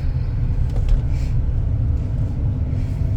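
A 2003 Cadillac Deville being driven, with a steady low rumble of engine and road noise filling the cabin, heard close and even the whole time with no talking.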